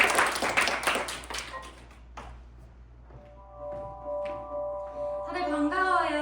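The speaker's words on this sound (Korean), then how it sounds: "큰 박수 부탁드립니다." An audience at a student mock cabinet meeting performance at Seoul Women's University claps in a brief burst that fades within about two seconds. Scattered taps and thumps follow, then a sustained musical tone rises.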